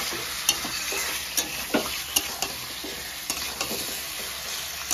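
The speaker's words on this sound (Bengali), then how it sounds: "চিকেনটাকে পেঁয়াজের সাথে সব ফোড়নের সাথে কিন্তু এখন ভালো করে আগে ভাজবো, মিনিট 5 ভাজবো এভাবেই।" Chicken frying with onion and whole spices for a Bengali gota masala chicken, a steady broadband sizzle with repeated sharp scrapes and clinks of a spatula stirring against the pan, close and without talk.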